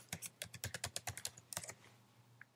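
Quick typing on a computer keyboard, a burst of about a dozen close, crisp key clicks that thin out into a few last taps.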